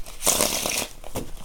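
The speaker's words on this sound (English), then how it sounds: "let me do a nice shuffle for y'all" A deck of playing cards is shuffled close by in a quick riffle of crisp, papery flutters, with a second short burst of card riffling shortly after.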